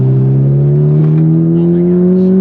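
A tuned Honda Civic Type R accelerates hard, its engine note climbing steadily in a loud, close drone heard from inside the car.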